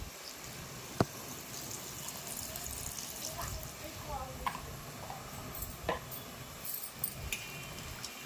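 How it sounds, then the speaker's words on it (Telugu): Cold water is poured over soaked meal maker soya chunks, giving a steady wash of running water with a few sharp clinks and taps of a vessel. It stays moderately close and even for several seconds. "ఆ వేడి నీళ్ళన్నీ తీసేసుకొని ఇప్పుడు చల్లటి వాటర్ పోసేసుకుందాం"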